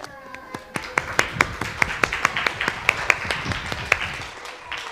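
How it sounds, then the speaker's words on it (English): A small audience applauds a dinosaur-themed puppet show with steady, evenly spaced claps that keep a brisk rhythm for several seconds at moderate volume. "Let's give our puppet friends another round of applause"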